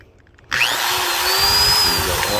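A Makita power drill with a speed-adjust wheel starts abruptly and then runs steadily, a loud close motor whine with a rising high-pitched tone, alone without talk.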